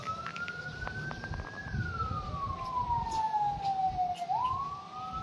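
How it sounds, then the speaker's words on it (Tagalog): A fire truck siren wails steadily, rising and then sliding downward as it passes at moderate distance over low road rumble, heading to a house fire. "Ayun na ang bumbero, paikot na."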